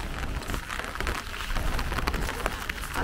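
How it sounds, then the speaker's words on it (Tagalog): Steady rain pours outdoors on a wet day at a junior high school entrance ceremony in Japan, a loud, dense and continuous hiss with no voices heard. "Na-tsempo tayong maulan ngayon."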